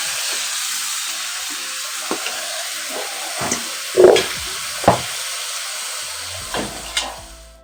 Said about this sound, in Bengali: এটা হচ্ছে ব্রয়লার মুরগি। তো চলো এটা কষানো হোক